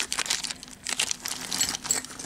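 A plastic bag crinkles as it is handled, with irregular bursts of close, crisp rustling and crackling.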